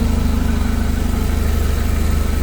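A 4-cylinder engine in a 2020 Clark S30L forklift with 5500 hours, idling steadily up close with an even low throb and no voices.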